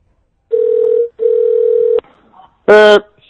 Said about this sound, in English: Let me get back here and try to give Tyler a call back